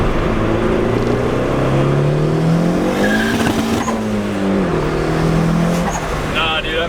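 A turbo Honda Civic accelerates at full throttle, its engine note climbing loudly, dropping at a gear shift and climbing again, with a faint squeal.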